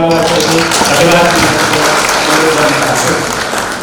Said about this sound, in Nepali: ताली पिटेर उहाँहरूलाई धन्यवाद